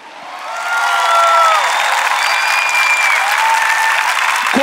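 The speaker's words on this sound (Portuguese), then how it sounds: "Eu queria que você o aplaudisse." A large church congregation breaks into sustained applause that swells quickly and holds steady, with a few cheers and voices rising over the dense clapping.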